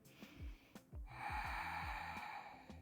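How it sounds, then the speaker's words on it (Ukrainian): A deep breath during a yoga session, heard as a faint nasal inhale followed by a longer, steady airy exhale, close and quiet, with no speech. "Заключний глибокий вдих."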